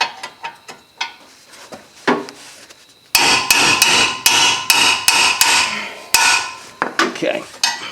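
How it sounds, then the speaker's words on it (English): A hammer strikes lug nuts on a 2012 Nissan Altima in a steady series of sharp, ringing metal blows, loud and close, faster and heavier in the second half. "we'll start them with a hammer"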